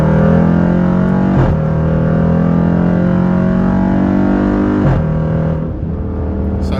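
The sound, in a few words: 2018 Dodge Durango SRT exhaust revving in sport mode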